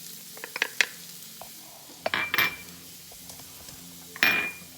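Garlic and ginger stirred in a hot pan, with brief close clatters of a utensil against the pan and short bursts of sizzle in between, fairly quiet overall.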